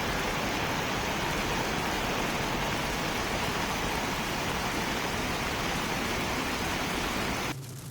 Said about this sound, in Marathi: मुळशीमध्ये मुसळधार असा पाऊस झाला, रस्ते जलमय झाले